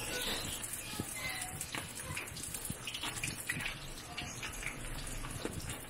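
Breaded chicken wings frying in hot oil give a steady, dense crackling hiss with scattered pops that runs unbroken and fairly loud throughout.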